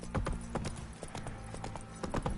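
Horse hooves clip-clop at a steady trot on a road in The Witcher 3, a rapid run of crisp, close hoofbeats.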